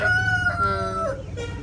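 A farm-raised country rooster gives a single close, loud crow of about a second and a half, with a strained, cracking tail at the end and no talk over it.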